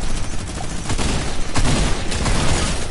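A minigun fires in a video game as a dense, unbroken roar of rapid shots, loud and continuous throughout with barely any variation.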